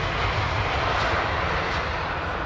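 Steady, loud jet engine roar from an aircraft at London Heathrow Airport, one fitted with a replacement engine nacelle, holding a continuous broadband rumble for the whole stretch with no pauses.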